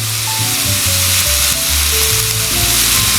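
Seasoned stromboli filling with seasoning salt, garlic powder and black pepper browning in a skillet, a loud, steady, close sizzle and crackle with a low stirring rumble underneath, no voices.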